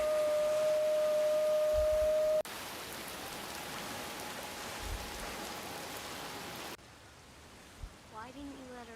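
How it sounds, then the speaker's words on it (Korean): A waterfall in a monster film scene, heard as a steady, loud broadband rush of falling water that shifts level across abrupt scene cuts, with a brief voice near the end. "겁먹은 마커스를 진정시키기 위해 찾아간 폭포."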